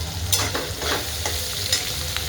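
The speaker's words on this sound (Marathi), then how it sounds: "आणि कांदा टाकून घेऊ. कांदा छान असा लाल" Steady sizzling of onion and curry leaves frying in a pan, with a few scraping stirs; continuous and fairly close, no voices.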